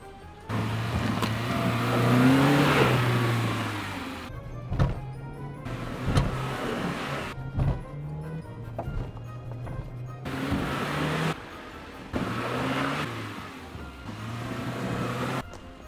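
A Dacia Logan car engine revs hard in repeated surges as it drives out of a hole in reverse, with loud bursts of acceleration broken by short pauses.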